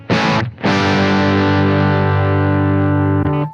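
An electric guitar played through a Blackstar Beam Mini amp in dynamic-mic mode rings out loudly with distortion: a short struck chord, a brief gap, then a long sustained distorted chord that holds for nearly three seconds.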